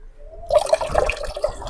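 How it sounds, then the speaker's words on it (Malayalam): Water splashes and gurgles into a container of fertilizer for marigold plants, diluting it, for about a second after a brief quiet start, close and moderately loud. "അപ്പം ഞാൻ ഇതിനകത്തേക്ക് കുറച്ച് വെള്ളം ഒഴിക്കുവാണേ"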